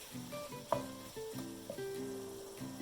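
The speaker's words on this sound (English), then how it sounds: "to keep stirring so the meat doesn't get too thick" Ground meat frying and being stirred in a pan for Bolognese sauce, a steady close sizzle with repeated scraping strokes of the spoon and one sharper clack partway through.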